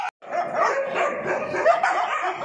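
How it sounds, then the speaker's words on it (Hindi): Street dogs bark in a steady, overlapping chorus at a Rottweiler and two German shepherds out on a walk. The barking is fairly close and continuous, with yips and whines mixed in. "जबकि सारे डॉग भौंक रहे हैं मेरे डॉग पे"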